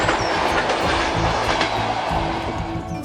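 A passenger train rolls along its rails, loud and close, with a rumbling roar, rhythmic wheel clatter and brief metallic squeals, no talk.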